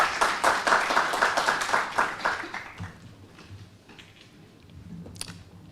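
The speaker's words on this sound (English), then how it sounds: "A big round of applause." Audience applause at a direct democracy forum debate, a burst of dense clapping that fades within about three seconds, leaving a quiet room with faint murmuring and a brief sound near the end.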